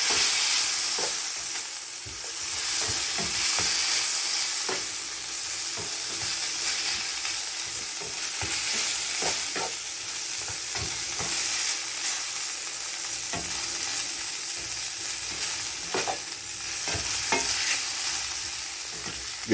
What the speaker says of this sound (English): Give them a stir around in the pan.